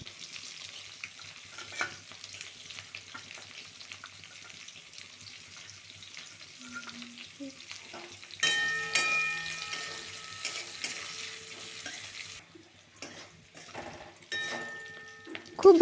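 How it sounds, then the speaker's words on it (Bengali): Chopped onions and bay leaves fry in mustard oil in a wok, a steady close sizzle with occasional stirring scrapes, growing louder partway through. "কড়াই চাপিয়ে তাতে সর্ষের তেল দিয়ে কটি তেজপাতা এবং যে পেঁয়াজ কুচিয়ে রেখেছিলাম সেই পেঁয়াজগুলি দিয়ে খুব ভালো মতোভাবে ভাজতে হবে"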